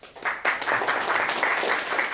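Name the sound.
applause for a Toastmaster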